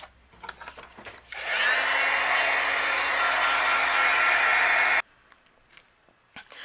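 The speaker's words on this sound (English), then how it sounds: "And I'll use my heat gun and we'll melt both of these." A heat gun blows steadily for about three and a half seconds, melting white embossing powder on a handmade Christmas card, a loud broadband whoosh that starts and cuts off abruptly between quieter handling noises.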